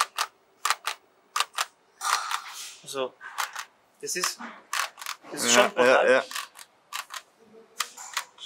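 A Porsche GT2RS Stage 2 car seat rattles in Dubai, making sharp, irregular clicks and knocks close by, interrupted by short bursts of someone talking.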